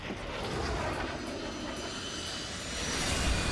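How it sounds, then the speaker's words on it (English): An unmanned jet in the video game Bayonetta 2 roars past, a steady broadband engine rush that swells slightly toward the end, loud and continuous with no talking over it. "That's some amazing trajectory for a jet with no one flying."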